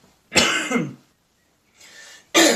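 Two harsh coughs, close and loud, separated by a short pause, the first longer and the second cut off at the end.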